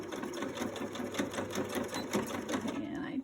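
A sewing machine runs a straight stitch along the side of a fabric face mask, a fast, even mechanical chatter of the needle close up and steady, with a person talking quietly over it.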